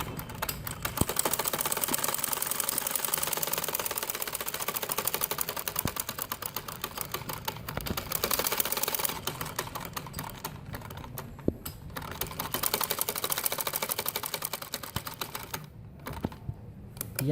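A sewing machine runs a seam along the front of a pajama, giving a rapid, even mechanical ticking that continues for most of the run with brief pauses near the end, close and moderately quiet.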